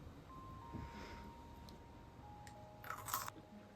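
Crunchy homemade refrigerator pickle bitten and chewed up close: quiet, scattered crunches, a sharper burst of crisp crunching near the end, no talking.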